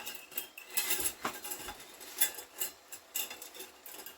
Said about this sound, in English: Get my measuring spoons here.